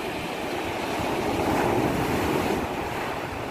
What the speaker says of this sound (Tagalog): Maalon dito sa lugar namin.